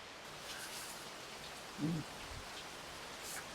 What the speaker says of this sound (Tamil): மழை வந்துட்டு